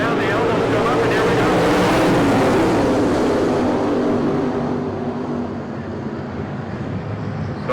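A field of 410 non-wing sprint cars accelerates off the start of a dirt-track race, engines roaring loud and close as the pack surges past before the sound eases. An announcer talks over the noise.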